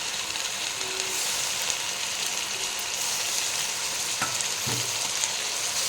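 Chicken pulao with mint being stirred in a frying pan: a steady, close sizzle of frying with scraping stir strokes near the end, no voices.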